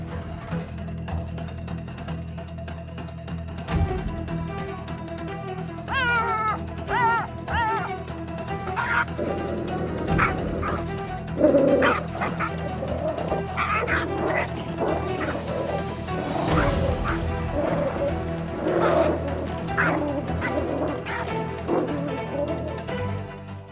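A pack of wild dogs fights a thick-skinned honey badger, with repeated yips, barks and whimpers, close and loud, over a rough background of scuffling and crashing noise, some voices mixed in.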